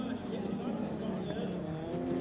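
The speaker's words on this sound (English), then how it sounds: "Makes a glorious noise, the Volkswagen V6 engine." A Volkswagen Golf V6 race car's engine snarls loudly at high revs while racing round a circuit, tires working hard, with commentary running over the noise.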